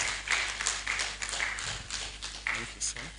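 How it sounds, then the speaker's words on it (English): Scattered applause for a seminar facilitator at a professional education event, several distinct claps amid a steady low hum, with a voice speaking over it. "Please, let's do it better with the applause for our facilitator today."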